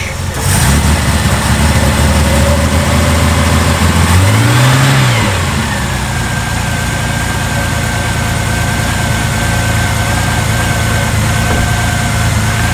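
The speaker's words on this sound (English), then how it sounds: "I don't know if you can hear, but the fan is on as well" A Reliant Scimitar's engine runs steadily with its radiator fan whirring, a loud continuous hum with a brief low rise in pitch early on, then a sustained even drone with a faint tonal whine above it.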